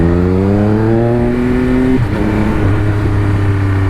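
A Triumph Speed Triple RS motorcycle engine revs loudly and close, rising in pitch before a brief shift at about two seconds, then settling into a steady powerful drone.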